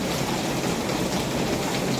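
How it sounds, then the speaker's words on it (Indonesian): Steady, loud rain pours outdoors through grapevines with no roof overhead, a dense continuous hiss of drops without pause. "lagi hujan."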